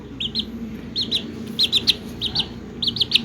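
Short high-pitched chirping peeps from a young bantam hen, in quick bursts of two or three, close by and fairly loud.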